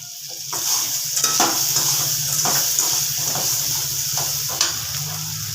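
Grated coconut (half a coconut) sautéed in a pan with ginger, curry leaves and asafoetida for Madurai ginger chutney, giving a steady close sizzle with repeated scraping stir strokes throughout, no talk.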